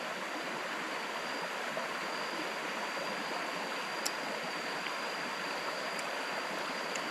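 Water flows steadily in a stream, a constant broadband rush close by with no breaks, with only a faint high whine and a couple of tiny clicks above it.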